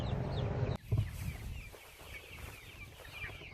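A flock of chickens on a pasture farm clucks and chatters at feeding time, a busy layered chorus heard close, with a brief rustle partway through.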